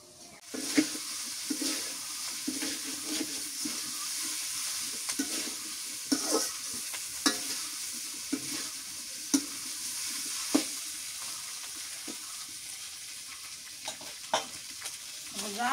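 Food fries in a pan in a home kitchen, a continuous close sizzle with occasional clinks and scrapes of a spatula stirring, steady throughout with no talking.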